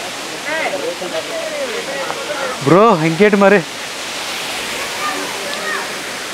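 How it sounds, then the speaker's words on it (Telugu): The Mettuguda waterfall near Seethampeta, Srikakulam, roars with a constant, full rushing noise; someone speaks briefly partway through. "ఇది చూస్తే వాటర్ ఫాల్"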